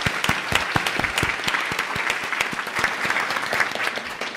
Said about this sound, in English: a round of applause for everybody here